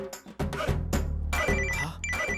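Outgoing loudspeaker phone call, with a ringback tone chirping over a dense bed of background music at moderate level.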